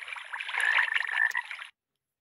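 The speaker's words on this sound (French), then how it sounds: "Il y a des grenouilles. Non, c'est mon réveil." Frog croaks used as a phone alarm ringtone, a dense chattering chorus of croaks playing steadily for under two seconds before cutting off abruptly, with no voices over it.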